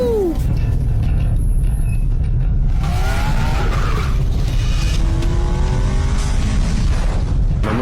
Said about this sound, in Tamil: நம்ம பின்னாடி ஒரு கார் ஃபாலோ பண்ணுது.